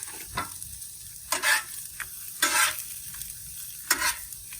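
Tacos are flipped on a hot Blackstone griddle: four distinct bursts of spatula scraping and sharp sizzle rise over a quieter, constant frying hiss.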